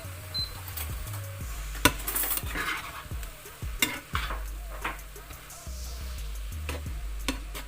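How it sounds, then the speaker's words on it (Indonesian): Nasi goreng being stirred in a pan over lowered heat: a spatula scrapes and clatters against the metal in repeated strokes over a steady frying sizzle, close and moderately loud, with no voices. "Nah, baru kita aduk ya pemirsa."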